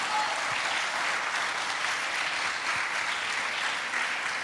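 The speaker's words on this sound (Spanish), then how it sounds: "Si va a darle un aplauso al Señor, déselo fuerte." A church congregation applauds loudly and steadily in a sustained wash of clapping that fills the room throughout, with no voice rising above it.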